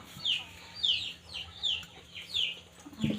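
A chicken clucks in a quick rhythmic series of short, high calls, five or six in a row, close by against a low background hum.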